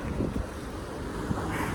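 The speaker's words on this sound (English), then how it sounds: "we're dealing with some pretty big winds right now" Strong, gusty wind on a chilly day outdoors, buffeting the microphone with continuous loud rumbling noise and no talking.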